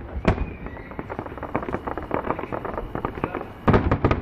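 Eid al-Fitr fireworks in Riyadh crackle and pop in rapid, irregular bursts at a moderate distance, with a couple of sharper bangs standing out.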